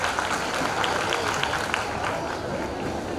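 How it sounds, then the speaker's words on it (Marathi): An audience at a school-linked knowledge festival applauds for the students and teachers, giving a dense, steady wash of clapping with crowd noise underneath that continues evenly throughout. "सर्वांसाठी खूप जोरदार एकदा टाळ्या वाजवाव्या अशी मी त्यांना विनंती करतो"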